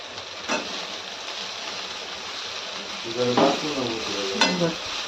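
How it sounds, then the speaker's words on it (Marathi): Soaked poha is stirred and mixed in a pan for Maharashtrian kande pohe, with a steady sizzle and a few louder scraping strokes, near and clear with no talk. "आता हे जे आपले पोहे आहेत भिजवलेले ते पोहे आपण ह्याच्यामध्ये टाकून छान असं मिक्स करू"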